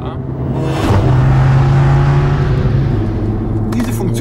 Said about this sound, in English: left foot on the brake, race start active, and let's see what happens.